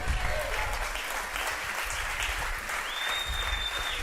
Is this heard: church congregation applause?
yes